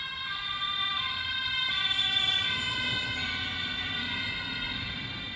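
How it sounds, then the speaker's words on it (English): An ambulance siren wails continuously with layered high tones, steady and fairly loud, with no talking. "there comes the ambulance"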